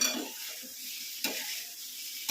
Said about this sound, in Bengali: দিয়ে দিচ্ছি আলু, ডিম, সব দিয়ে আমাকে একটু এটা নাড়তে হবে